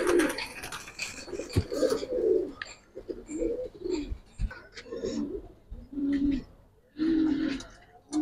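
Giribaz and coloured pigeons at a pigeon farm coo in close, loud, repeated throaty bursts, several birds overlapping with short pauses between calls.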